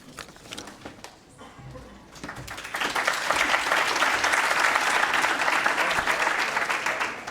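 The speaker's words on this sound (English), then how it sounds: "I'm always worried when there's applause before I've said anything" An audience at a plenary session of a conference applauds as a speaker is welcomed to the stage, the clapping swelling from scattered claps into loud, sustained applause that carries on steadily to the end.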